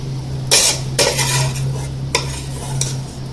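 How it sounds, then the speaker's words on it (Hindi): A utensil scrapes and scoops lauki halwa from one pot into another a few times, over a steady low electrical hum, with no talking. "अब इसको हम दूसरे बर्तन में निकाल रहे हैं"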